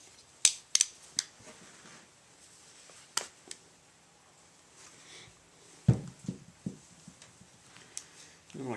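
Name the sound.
cutting bank line cord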